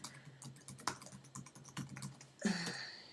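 Keystrokes on a computer keyboard as someone types a message, a quick uneven run of close clicks that ends in a brief louder burst of taps.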